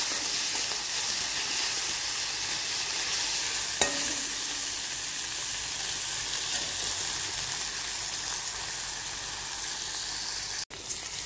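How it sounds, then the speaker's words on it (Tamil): Onions frying in hot oil in a pan for an idiyappam kothu, a steady broadband sizzle that runs unbroken from start to finish, close and even, with a brief stir or clink partway through and no talk. "வெங்காயம் நல்லா வதங்கட்டும்."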